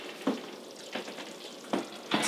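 Gravy bubbling and sizzling on a keto turkey biscuit casserole just out of the oven, with a soft, steady crackle broken by a few louder popping bursts, close and alone.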